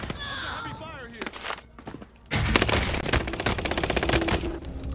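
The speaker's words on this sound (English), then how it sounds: "Heavy fire here." Heavy automatic gunfire rattles through a shooter video game, with rapid bursts and clattering shots that swell into a loud sustained barrage while players talk over it.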